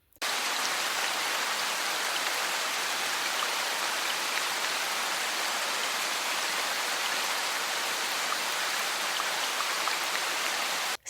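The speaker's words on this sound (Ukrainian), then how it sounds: "послухайте, як іде дощ" Steady rain falls in a dense, even hiss of many drops, continuous and moderately loud from start to finish with no pauses and no voices.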